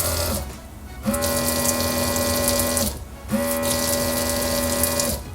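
A JISULIFE automatic touchless soap dispenser pumps out water in two steady bursts, each a motor whir with liquid streaming, separated by a brief pause, close and fairly loud.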